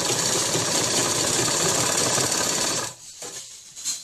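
A sewing machine stitches the folded waistband of a dhoti shalwar, a loud, steady whirring run close by that stops abruptly near the end, leaving a few faint knocks and handling sounds.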